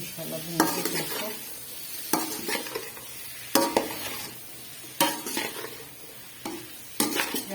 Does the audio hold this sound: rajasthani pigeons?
no